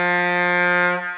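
A homemade DIY turkey caller gives one steady, loud buzzing drone lasting about a second, cutting off abruptly with a short quieter tail, sounding nothing like a turkey.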